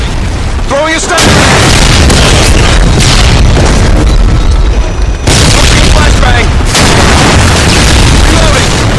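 A stun grenade is thrown in a video game and goes off with a loud close boom, followed later by a second heavy blast amid dense battle noise, gunfire and shouted voices.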